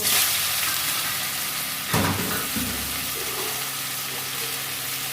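Tamarind pulp frying in a pan, a steady broadband sizzle throughout with a brief louder burst of stirring around the two-second mark, close and continuous with no talk.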